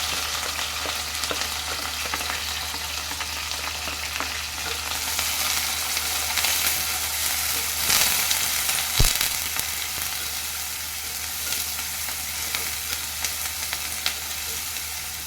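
Cumin seeds, green chilies, curry leaves and onion fry in hot oil in a pan, a steady close sizzle with crackles and occasional scrape of stirring, one sharper pop midway, no talking.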